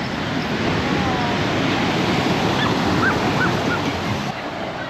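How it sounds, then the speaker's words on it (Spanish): Ocean waves breaking close to beachfront houses in Los Angeles, a steady loud wash of surf that fills the whole stretch without pause. "casi nos llega las olas"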